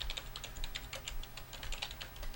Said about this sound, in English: The man typing is Gators.